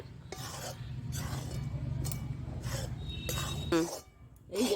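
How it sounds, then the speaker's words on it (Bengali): Rice flour is stirred and dry-roasted in a pan for Bengali puli pitha, making repeated rasping scrapes in a steady rhythm, close and fairly quiet, with a voice speaking now and then. "এই যে গুড়িটাকে ভেজে নিচ্ছে"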